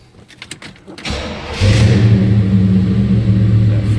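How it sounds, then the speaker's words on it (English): A 1957 Chevrolet 210 street rod's fuel-injected LT1 V8 cranks briefly and fires up, settling into a loud, deep, rumbling idle close by. "Let's go ahead and start it up."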